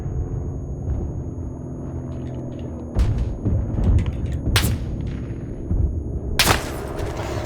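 Grenade blasts and gunfire in the World War I shooter Isonzo on the Monte Cengio map: several sharp explosive bursts land around the three, four-and-a-half and six-and-a-half second marks over a constant low rumble of battlefield noise.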